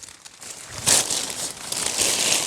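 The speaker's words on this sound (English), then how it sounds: "My little carrier bag full of waste." A plastic carrier bag full of waste crinkles and rustles in a tent vestibule while camping, with close, continuous crackling handling sounds that swell and settle over a couple of seconds.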